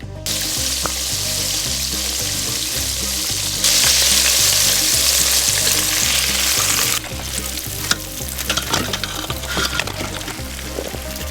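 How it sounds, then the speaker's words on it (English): Loud, steady sizzling and bubbling of breaded quail and pheasant deep frying in hot peanut oil, with occasional stirring clatter and a brief pour. "There's a lot of work that goes into deep frying pheasant and quail."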